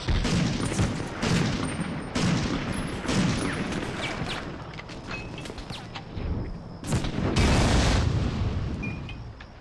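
Explosions and rapid gunfire from the PS1 shooter Medal of Honor: Underground: loud, dense bursts of blasts and volleys that repeat across the whole stretch, with heavier booms near the start and end.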